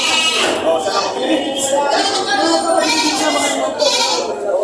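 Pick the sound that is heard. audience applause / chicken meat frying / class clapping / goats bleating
goats bleating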